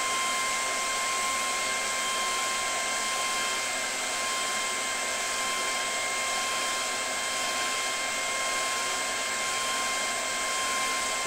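A hot air blower heats the label on a CD case, producing a steady, loud, close rushing whoosh with a constant tonal hum throughout.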